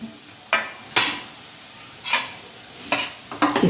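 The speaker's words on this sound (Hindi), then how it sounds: "लो फ्लेम पे ही इसको हम देसी घी में कढ़ाई में डाल करके भूनेंगे" Water chestnut flour roasting in desi ghee in a kadhai over a low flame, with a soft sizzle under sharp, intermittent scrapes and knocks of a stirring spoon against the pan, close and fairly loud.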